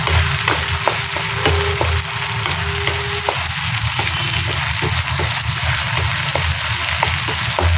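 Steady sizzling and frying of tomatoes, peanuts, dried red chillies, tamarind and jaggery in a pan on a gas stove, with a continuous crackling hiss and faint periodic stirring ticks, close and even throughout.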